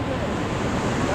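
Wooden or plastic paddles churn river water during a rafting trip at Dandeli, a steady broadband wash of splashing that stays close and dense, with a guide's voice shouting over it.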